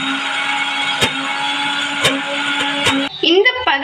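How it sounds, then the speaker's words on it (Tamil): A kitchen mixer grinder blends soaked ration-shop lentils and spices into coarse masala vada batter, a dense, steady whir with a few sharp clicks before the motor slows and changes pitch at the end. "இந்த பதத்துக்கு மிக்ஸியில் போட்டு கிரைண்ட் பண்ணி எடுத்துக்கோங்க"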